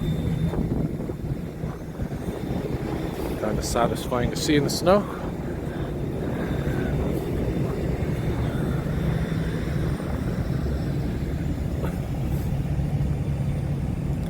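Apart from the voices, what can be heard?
coach buses driving by in the snow at night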